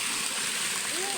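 Water pouring and splashing at an undeveloped jungle waterfall, a loud, close, continuous rushing spray that fills the whole moment without pause.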